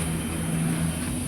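Interior rumble of a moving passenger train in India, a steady low hum and high whine with no distinct clatter, brief and continuous.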